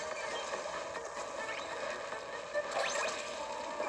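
A small motor revving on a Salmonid enemy in the Splatoon Salmon Run video game, a thin buzzing whine with rising chirps mixed among other game effects at moderate volume.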